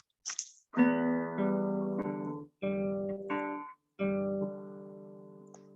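Open guitar strings fingerpicked in a slow, even pattern, each note ringing into the next, close and clear, with a small click just before the first note.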